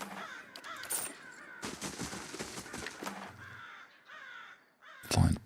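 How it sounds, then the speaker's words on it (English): Crows cawing in the video game Pillars of Eternity, several harsh caws spread over a few seconds amid ambient game sounds, with a sharp loud burst near the end. "With the crow sounds, this all of a sudden became very Fallouty."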